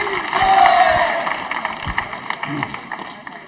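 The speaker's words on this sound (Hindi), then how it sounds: "तालियां बजाई जोरों से, जोरों से तालियां बजाई" A quiz-show audience of accounts trainees claps hard, a dense, loud burst of applause that swells early and then slowly thins out, with crowd noise mixed in.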